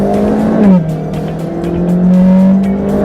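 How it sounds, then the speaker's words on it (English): A 2017 Hyundai Santa Fe Sport with a 2-liter turbo engine accelerates, its engine note droning and rising in pitch, dipping briefly at a shift, then climbing again, loud and close. "Let's see what this 2-liter turbo can do."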